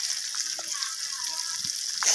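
Onions fry in fish oil in a pan with a steady, moderate sizzle and a few faint clinks and splutters, without any speech.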